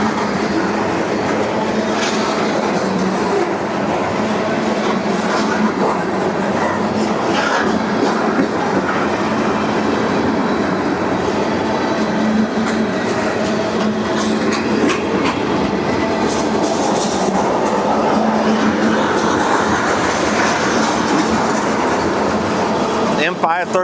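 A long CSX freight train of about 478 axles rolls steadily past at Madisonville, Kentucky, a loud continuous rumble with repeated clickety-clack of railcar wheels over rail joints and occasional faint squeals, unbroken for the whole stretch.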